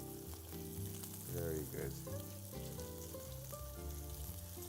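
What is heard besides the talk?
sea bass fillet frying in a pan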